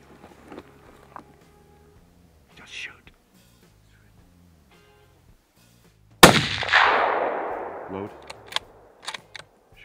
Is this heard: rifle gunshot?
yes